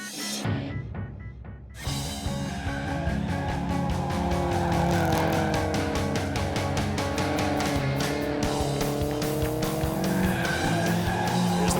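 A 1990 Nissan 240SX drift car powers through a corner in competition, engine roaring loud and close with tires squealing and skidding continuously, after a brief quieter moment at the start.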